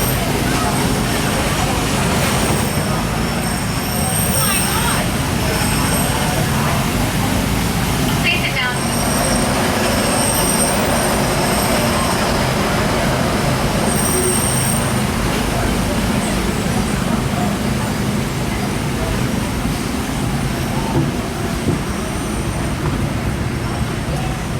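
Disneyland Railroad train running along its track, a steady continuous rumble and rolling noise that holds for the whole stretch, with faint background chatter from riders.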